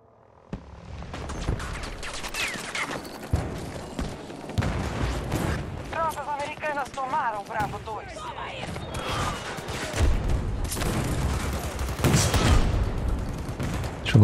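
Gunfire crackles through a shooter video game, with scattered sharp shots and bursts over a busy background, and a voice chirping in the middle stretch.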